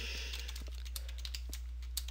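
Soft keyboard taps sound over a steady low hum as code is typed on a computer keyboard, the light irregular clicks spaced out and fairly faint.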